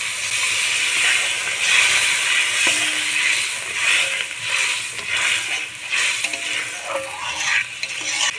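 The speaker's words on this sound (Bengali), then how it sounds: "এখন আমি জল অ্যাড করে দেবো এতে।" Water poured into a hot pan of mustard and poppy seed paste for a Bengali prawn malai curry, giving a steady loud hiss and sizzle with faint stirring scrapes throughout.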